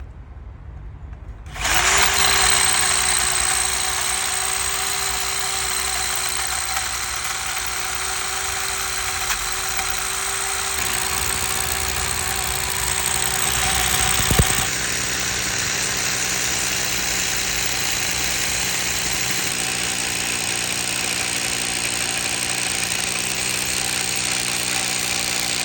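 An Einhell rotary hammer drill starts up abruptly and then runs at a steady, loud whine, with a brief load change midway, then continues droning evenly to the end.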